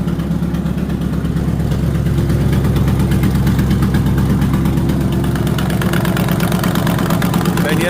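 A fertilizer buggy engine with shot gaskets runs steadily and loudly up close, a rough, uneven chugging idle that continues without a break.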